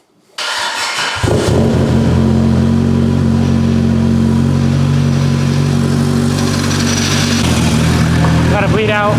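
A vehicle engine cranks, catches and settles into a loud, steady clattering idle as it warms up, close to the listener and running throughout with a slight rise near the end.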